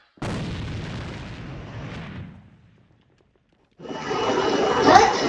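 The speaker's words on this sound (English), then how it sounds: "And now he'll throw out a nade." Grenade explosion in a competitive video game match, a loud booming blast that decays over about two seconds, followed after a short silence by a fresh burst of harsh noise.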